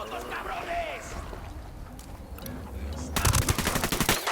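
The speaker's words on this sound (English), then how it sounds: "Tango heard the gunshot." Automatic gunfire in the tactical shooter Ghost Recon Wildlands, a rapid burst of loud shots rattling in the last second after a stretch of ambient background with speech.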